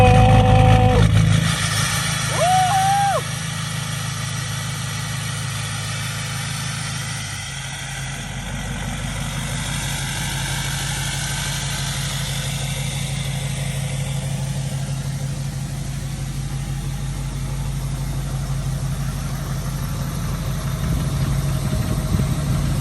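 A diesel pickup truck with a swapped-in Cummins engine cranks and fires up, then settles into a loud, steady rumbling idle that runs on without a break and without talk.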